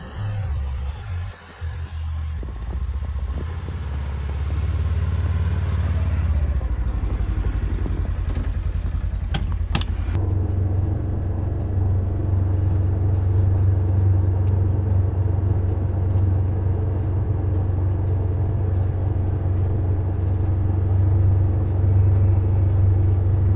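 A 2022 Polaris Ranger XP1000 Northstar utility vehicle comes closer through snow, its engine rumble growing louder and then holding at a steady, close drone.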